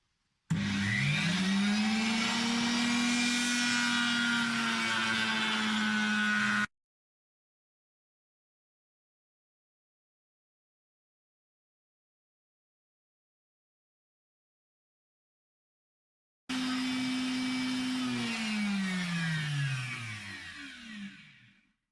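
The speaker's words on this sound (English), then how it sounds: "Then I'll go to the router and round over the edges." A router rounds over the edges of a guitar body made from scrap timber, giving a loud, steady high-pitched whine in two passes with a long silent gap between them, the second pass trailing off as the bit spins down.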